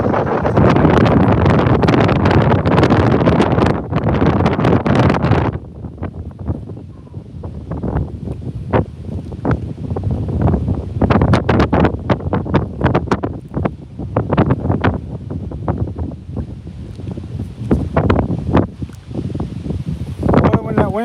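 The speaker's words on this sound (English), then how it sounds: "Boy, when that wind picks up, it picks up," Gusty wind buffeting a microphone outdoors during fly fishing for bluegill and bass, loud rumbling blasts that come and go in waves, strongest at the start.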